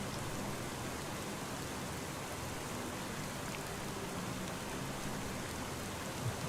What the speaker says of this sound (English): All my straw bales are getting rained on, which doesn't affect them in game